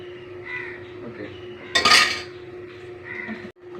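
A metal pot lid clanks onto a cooking pot of Palakkad-style bitter gourd curry, one bright clattering clink rising above a steady hum and kitchen noise, with a short scrape afterward.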